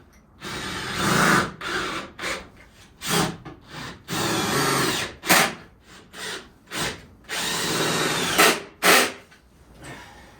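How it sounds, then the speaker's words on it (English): A power drill whirs in repeated bursts, some long and some short, pre-drilling holes in wood for an attic ladder install, with brief pauses between each run, close and loud. "So I am going to pre-drill these"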